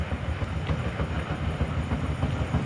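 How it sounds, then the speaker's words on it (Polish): An EN57 electric multiple unit with flat-spotted wheels on two bogies passes at Łowicz Główny station, a loud, close, continuous rumble with rapid rhythmic pounding thuds from the damaged wheels. "ale hałasuje ten pociąg."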